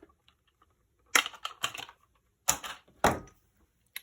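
Wire cutters snip a short length of wire for a wreath hanger, giving close, sharp clicks and brief clattering bursts in three quick clusters against a quiet background.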